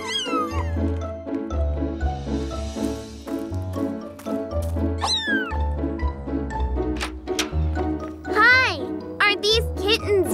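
Cartoon cat meows repeatedly and expressively over bright children's-show music, with a voice and other speech mixed in.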